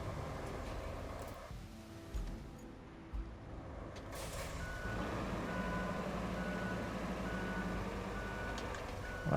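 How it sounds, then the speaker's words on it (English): Reversing beeps sound from a truck in the RoadCraft driving game, a steady run of evenly spaced electronic tones rising over a low engine rumble, with no talk. "Okay, I gotta pull this truck back farther."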